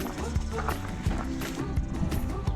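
Rhythmic hoof clops from a pony walking close by, steady and evenly spaced over a dense background of outdoor noise and low voices.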